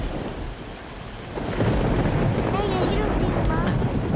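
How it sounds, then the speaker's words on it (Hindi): Heavy rain pours down steadily during a thunderstorm, with a low rumble of thunder swelling midway and the downpour growing louder and denser. "पता नहीं इतनी बारिश क्यों हो रही है"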